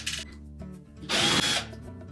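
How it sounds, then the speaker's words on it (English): A power drill briefly spins out a quarter-inch hex head screw holding the main top of a Whirlpool range, one short close whir after faint handling clicks. "we're going to remove two screws that secure that main top to the body of the range"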